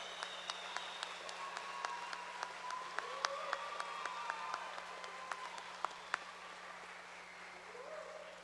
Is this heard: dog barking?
no